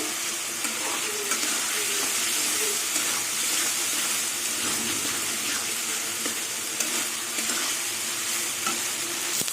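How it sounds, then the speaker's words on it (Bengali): Gobindobhog rice stir-fries with spices and potato in a hot pan, a steady bright sizzle and hiss with occasional scraping of a spatula stirring, continuous and close. "দেখুন চাল দিয়ে কিছুক্ষণ কষিয়ে নেব"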